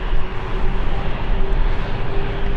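A KLM airliner lines up on the runway at London City Airport, its engines giving a steady, dense broadband roar with a faint tonal hum throughout the short stretch.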